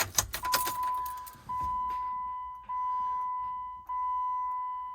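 Car key turned in the ignition with a brief jangle of the key ring, followed by a steady electronic warning chime repeating in three long tones, close and clear, with no talking.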